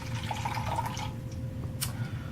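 Goji berry tea pours into a glass in a steady, close liquid stream, with a faint splash near the end.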